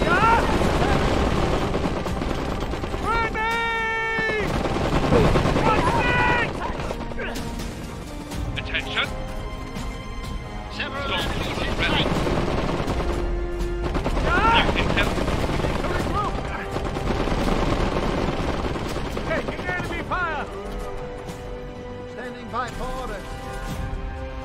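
Gunfire in Iron Harvest, a real-time strategy battle, with rapid machine-gun bursts and crashes rising and falling over about twenty seconds amid unit voice lines and other battle noise.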